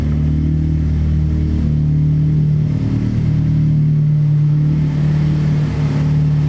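A K24-swapped Honda Civic race car engine idles and runs steadily, a loud, close, continuous low rumble with a slightly uneven, lumpy pulse throughout and no speech.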